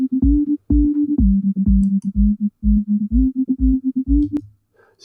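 Synth notes through a Timeless 2 delay with an LFO switching the wet mix on and off in eighth notes, giving a choppy, evenly pulsing stutter of tones that steps between two pitches before a brief sharp click.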